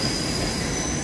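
Train wheels squeal continuously with a high, sustained metallic whine over a rumbling roll as a train moves through Manchester Piccadilly station, loud and close with no talk.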